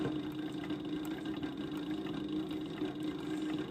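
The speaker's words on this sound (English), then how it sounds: "The machine feeds with the needle and the foot." A SEWPRO 8360B high post sewing machine runs continuously with a steady motor hum and a fast, even mechanical ticking from its needle and feed, close and alone.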